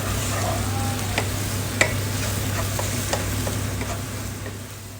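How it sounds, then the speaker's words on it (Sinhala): Onion, tomato and green chilies fry in hot oil with a steady sizzle, broken by occasional clicks of a spoon stirring the pan. "ඒකට ලූණු, තක්කාලි, අමු මිරිස් වගේ දේවල් හොඳට දාලා ඒ ටිකත් අර තෙල් එකේ හොඳටම බැදෙන්න අරිනවා"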